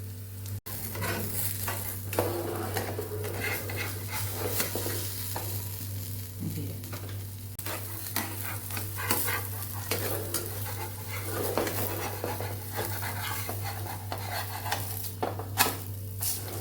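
Bajra flour pancakes cook on a pan over a low gas flame, a steady close sizzle with repeated light scraping and clinks of a spatula against the pan, continuing throughout without talk.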